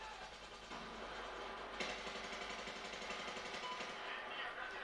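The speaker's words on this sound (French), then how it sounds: "là il y a un véhicule blindé à côté de nous, comme je vous avais dit" An armoured vehicle's engine idles close by in the video game Battlefield 4, a steady low rumble with a faint rhythmic throb running through the whole stretch amid dense background game noise.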